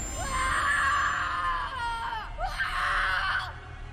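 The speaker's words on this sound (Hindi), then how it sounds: "उसके बाद बस उसकी चीखें सुनाई दी" A man surrounded by evil spirits in a haunted-mansion horror story screams twice, two long, high, wavering anguished cries separated by a brief pause, loud over a low rumbling background.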